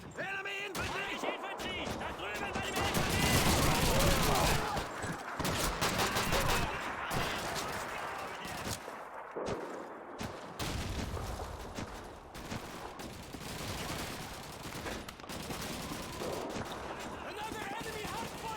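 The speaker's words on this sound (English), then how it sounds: "Enemy machine gun to the east!" Machine gun fire and rifle shots in the World War II shooter Call of Duty 2, dense bursts and fusillades running throughout, with shouted commands from soldiers heard between the shots.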